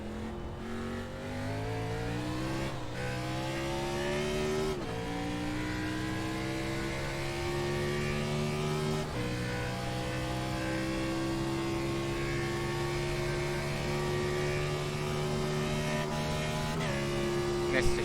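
NASCAR Cup car engine racing on the Daytona Road Course in iRacing, a steady loud drone rising in pitch through the gears, with several abrupt upshift breaks and a missed shift, no other sound.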